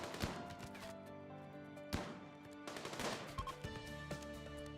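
Gunfire crackles in the colony game RimWorld as raiders are shot at, sounding as sharp separate bursts and single shots at a fairly low level over a steady background of music.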